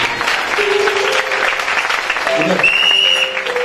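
A church congregation applauds the Lord with loud, sustained clapping and some cheering throughout, while a voice speaks over it and brief tonal sounds rise above the crowd.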